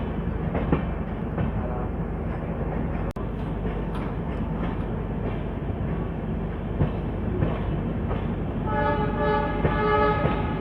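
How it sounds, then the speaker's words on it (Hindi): The Suhaildev Superfast Express 22420 pulls into Ghaziabad Junction, heard from onboard as a loud continuous rumble of wheels and carriages, with a sustained horn toward the end. "फाइनली अब हम पहुँच रहे हैं अपने ट्रेन के पहले स्टॉप गाजियाबाद जंक्शन पे।"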